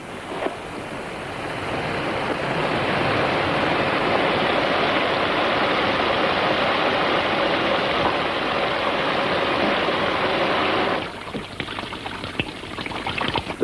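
Shower water running in a bathroom, a steady loud hiss of spray for about eleven seconds that then abruptly cuts off, leaving quieter room sound.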